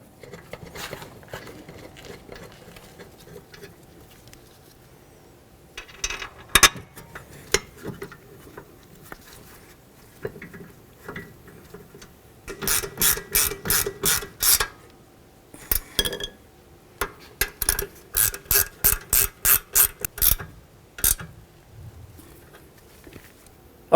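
A ratchet runs down caliper bracket bolts on the rear brakes of a 2012-2020 Nissan Pathfinder, giving rapid bursts of close, crisp clicking in rhythmic runs separated by pauses and handling noise.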